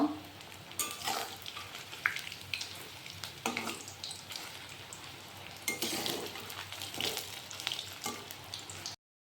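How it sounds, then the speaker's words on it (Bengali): Tagar flower fritters frying in hot oil, a continuous sizzle and crackle with bursts of scraping as they are stirred and turned, close and moderately loud, with no talk. "এক পাশে ভাজা হয়ে গেছে, এখন আমি আরেক পাশে ভেজে নিব।"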